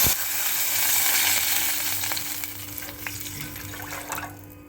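Water is poured into a hot pan of tempered spices for a Kannada kokum dish, giving a loud burst of sizzling and bubbling that gradually settles into a quieter simmer, with no voices.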